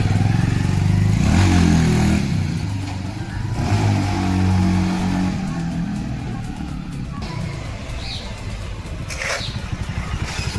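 A modified three-wheeler built from a motorcycle starts off in first gear on a short test drive, its engine revving in loud bursts and then settling into a clattering mid-pitched drone as it pulls away.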